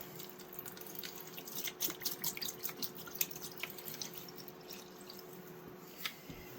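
Rust remover liquid poured into a container to soak a rusty jack knife, heard as faint trickling and a run of small drips and splashes, quiet and close, with no talk.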